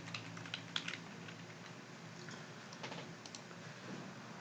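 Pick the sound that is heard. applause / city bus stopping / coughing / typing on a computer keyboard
typing on a computer keyboard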